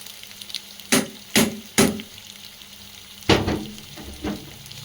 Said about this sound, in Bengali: এই মোমেন্টে এগুলো লাল লাল করে ভাজা মোটামুটি হয়ে এসছে।